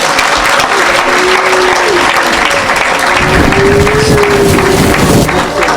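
A church congregation at a deliverance service applauds in loud, sustained clapping that fills the room from start to end, with voices calling out underneath.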